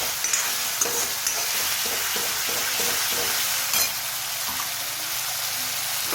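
Gravy tipped into a pan for matar malai methi, frying with a continuous bright sizzle while a spoon stirs and scrapes in irregular strokes close by.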